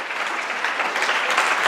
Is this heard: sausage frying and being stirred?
no